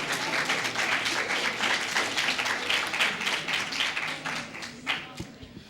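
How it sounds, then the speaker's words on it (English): Steady, dense audience applause at a university campus media institute event, fairly loud and continuous for several seconds before tapering off with a few final claps. "Let's give him a round of applause again."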